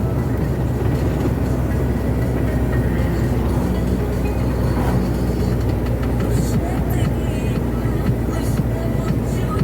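A car engine drones loudly and steadily as it strains up a hill, a constant heavy rumble with road noise and no clear change in pitch throughout.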